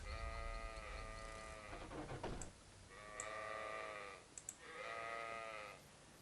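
Sheep in the PC video game Sacred bleating in three drawn-out, wavering calls separated by short pauses, clear and close with faint clicks between them and no talk.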